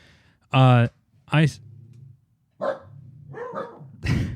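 A dog barks twice in quick, loud bursts near the start, then a person talks over household background.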